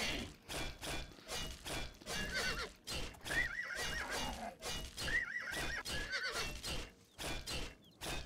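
Horse in the video game Oblivion neighing and whinnying twice amid repeated clip-clop hoofbeats and dull thuds, fairly close and clear with no talk.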